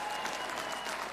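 At a mixed doubles curling match in Jonkoping, Sweden, a home crowd applauds in a brief, even wash of clapping heard from a distance.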